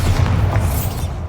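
A Bombarda spell explosion in the video game Hogwarts Legacy, a loud, deep boom with a rumbling tail that fades over about a second.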